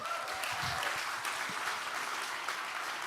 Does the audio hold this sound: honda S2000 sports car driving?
no